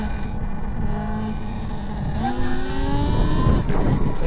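A Talaria XXX electric dirt bike accelerates hard, its rising motor whine climbing in pitch over a loud, rough rush of noise from riding; close, with no talking.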